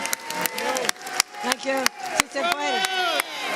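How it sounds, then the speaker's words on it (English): Sharp rhythmic claps ring out over a cheering crowd, with a voice speaking briefly among them. "Let's give yourselves another round of applause."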